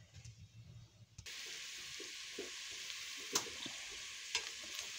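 Pork meat browning in a pan with no added fat: a steady, close sizzle of frying that starts abruptly and holds even, with a few soft stirring scrapes and clicks on top.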